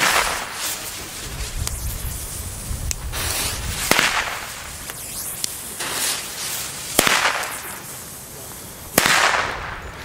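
Small Comet and Panda firecrackers go off one after another, sharp cracking bangs spread across several seconds with brief crackle and fizz between them, loud and close outdoors.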